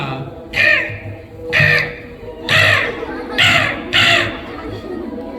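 A voice mimics a crow's caw five times, harsh nasal calls evenly spaced about a second apart, close and fairly loud.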